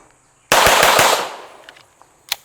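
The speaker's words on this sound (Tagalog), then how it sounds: "Automatic ata yung baril ni Sir Harley." Automatic gunfire at a practice session: a loud, rapid burst of shots starting abruptly, decaying over about a second, followed by a sharp single crack near the end.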